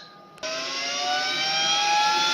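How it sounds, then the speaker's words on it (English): An engraving machine spins up with a sudden click and then a rising, steady whine with tonal hum. The sound is close and grows slightly louder as it reaches speed, and there are no voices. "there's the machine firing up, and there we go, off to the races"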